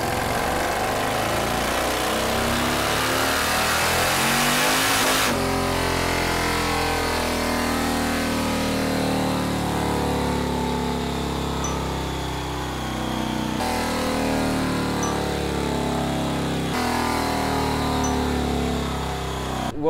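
A one-of-one Orange County chopper with a stock Evo motor and custom supercharger runs steadily and loudly up close, with a rough mechanical drone and slight shifts in revs, no voices.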